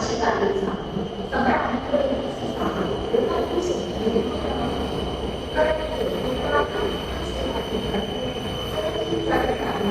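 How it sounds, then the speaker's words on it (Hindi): A metro train pulls into an elevated station platform with a steady rumbling roar, and brief squeals and clatters rise over it. People talk nearby through much of the clip. "उस तरफ की तो ट्रेन आ गई है, हमारी अभी इस तरफ से आएगी।"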